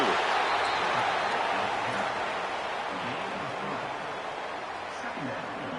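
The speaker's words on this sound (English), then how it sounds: "Listen to the crowd energy here in the early going." Steady roar of a stadium crowd cheering in an NCAA college football video game, a dense, loud wash of noise holding evenly throughout with no break.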